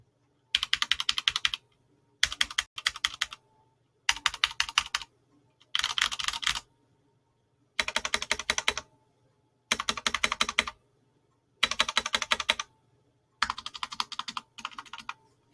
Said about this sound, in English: It also sounds like this when I'm typing on it.